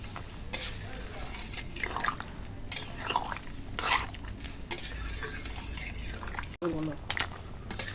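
Shukto, a Bengali vegetable curry, stirred and bubbling in a pan, with repeated spoon scrapes and clinks against the metal over a steady simmer, close and fairly loud.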